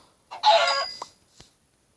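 A Minecraft chicken gives a short burst of clucks followed by a couple of softer single clucks, clear and close against silence.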